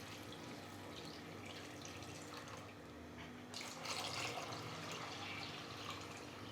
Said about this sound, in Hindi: हमने इसमें 1 लीटर पानी मिला दिया है।